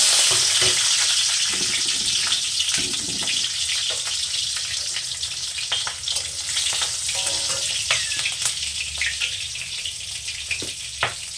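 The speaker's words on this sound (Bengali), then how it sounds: "কড়াইতে তেলটা গরম হয়ে গেছে আমি দিয়ে দিলাম কটা কাঁচা লঙ্কা" Green chillies hit hot mustard oil in a wok used for frying fish, giving a loud, continuous sizzle with sharp crackles and pops scattered throughout and no voices.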